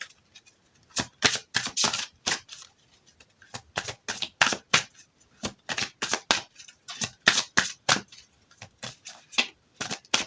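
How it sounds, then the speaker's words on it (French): Angel oracle cards shuffled and drawn in a fortune-telling reading, a rapid series of crisp, close flicking and riffling snaps in irregular bursts with brief pauses between, no talking. "Je vais tirer, bien sûr, l'oracle des anges."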